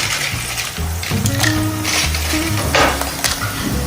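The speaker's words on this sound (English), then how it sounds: "I'm gonna start frying these chips" Homemade tortilla chips sizzle and crackle in hot oil in a kitchen, with a pan shifting and utensils clinking over the frying noise, close and fairly loud.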